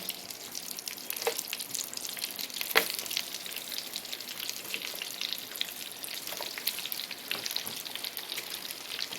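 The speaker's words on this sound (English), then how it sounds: "I'm going to saute it all for a few minutes" Lobster and shrimp sautéing in melted butter in a pan: a fairly quiet, even crackling sizzle with a few brief louder pops and utensil touches, heard close with no talking.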